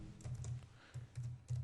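Typing Java code on a computer keyboard, a short burst of soft, close keystrokes in an uneven rhythm with small pauses between clusters.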